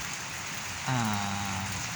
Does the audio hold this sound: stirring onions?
no